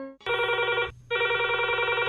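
A telephone rings in two long electronic bursts separated by a short pause, loud and close, with no voices, on a radio phone-in programme at All India Radio Jagdalpur.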